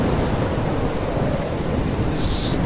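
Heavy rain roars steadily through a thunderstorm in Life is Strange, a dense, loud wash with deep rumbling underneath.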